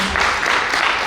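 Audience applause welcoming a speaker at a company team fest evening event, a steady dense wash of clapping that stays even throughout.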